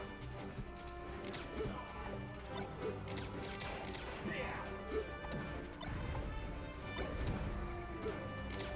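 A forward smash landing in Super Smash Bros. Melee at a live tournament, a sharp crashing hit sound among crowd noise and ongoing game effects.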